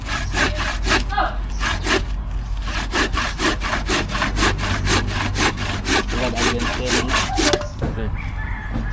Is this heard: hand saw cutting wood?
yes